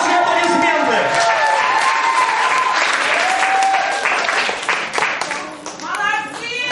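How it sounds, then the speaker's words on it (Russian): An audience at a children's summer camp awards ceremony breaks into sustained, loud applause. Scattered cheers and children's voices sit over the clapping, while music plays underneath and the clapping thins toward the end. "Ваши аплодисменты!"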